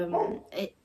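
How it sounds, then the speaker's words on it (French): A small dog barks twice indoors, two short close yaps in quick succession, faint behind a quiet room. "désolée pour le chien relou qui aboie."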